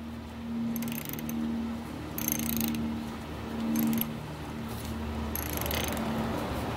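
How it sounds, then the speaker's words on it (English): A 10 mm socket wrench tightening the gear oil drain bolt on a GY6 150cc scooter makes a series of close ratcheting clicks in short bursts, under a steady low hum with no talking. "Remember, it's a 10 millimeter socket wrench that you're going to use."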